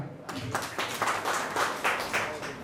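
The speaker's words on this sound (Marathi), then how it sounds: "सर्वांना टाळ्या वाजवा" A crowd at a public meeting on land acquisition in Nizampur gives a short burst of steady applause, with voices mixed in.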